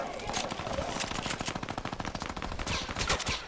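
Rapid automatic gunfire bursts in the video game Fortnite, dense repeated shots rattling loudly across the whole stretch with brief dips between volleys.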